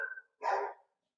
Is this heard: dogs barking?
yes